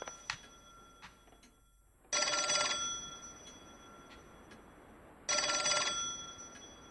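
A telephone rings in the L.A. Noire video game at Kelso's apartment: two long, bright bell-like ringing bursts about three seconds apart, clear and moderately loud over a quiet room tone with faint earlier chimes.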